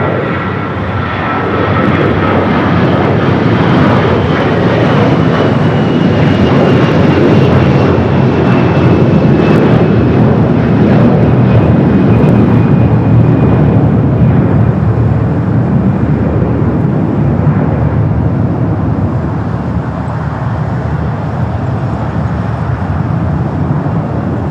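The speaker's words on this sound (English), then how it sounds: "Next takeoff, American Flight 1024 heading to Orlando, Florida." An American Airlines Airbus A321 bound for Orlando takes off at LAX, its engine roar loud and sustained for the whole span, with a faint high whine sliding slowly downward through it.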